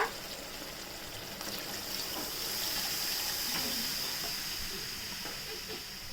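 Water pours steadily into a cooking pot for black rice, a soft continuous hiss and trickle with a faint steamy sizzle, close and moderately quiet throughout, no voices.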